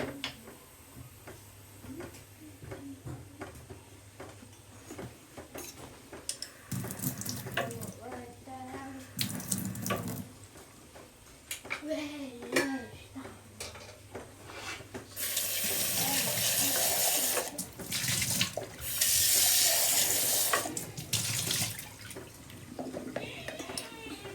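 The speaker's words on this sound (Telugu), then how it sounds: "ఆ నీళ్లు పడేసి మళ్ళీ ఫ్రెష్ వాటర్ వేసుకొని ఒకసారి క్లీన్ చేసుకోవాలి" Tap water running into a sink to rinse soaked moong dal for pesarattu in a home kitchen, with intermittent flow that swells into a strong, steady gush near the end, under occasional talk.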